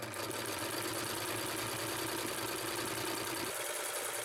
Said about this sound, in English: Then operate the machine relatively slowly.